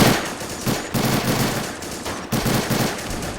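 Dense automatic gunfire during a WWII US Marine beach landing at Saipan in Men of War: Assault Squad 2, loud continuous machine-gun bursts with brief gaps, no talk.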